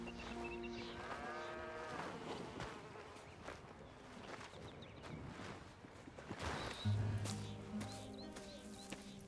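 Cattle on a ranch in Red Dead Redemption 2 low with drawn-out moos, fairly quiet and set against a constant buzz of insects and ambient farm noise.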